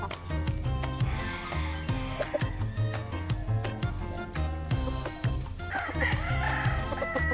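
Gamefowl chickens at a game farm cluck repeatedly and crow in two drawn-out calls, nearby and fairly loud, with other birds and farm background around them.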